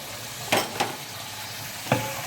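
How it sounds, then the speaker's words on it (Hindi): Chicken frying with biryani masala, roasted cumin and achar gosht masala in a pot gives a steady loud sizzle, broken by three sharp scraping stirs of a spoon against the pot. "अब इसको हम अच्छे तरीके से भून लेंगे"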